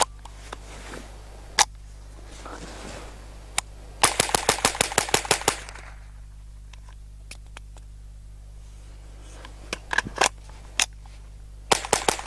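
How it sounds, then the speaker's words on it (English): Smith & Wesson 15-22 rifle firing a fast string of sharp, loud reports in quick succession, preceded by a few isolated shots and followed by more spaced bursts, with clicks and handling noise in between. "We'll just see how it goes under a bit of stress."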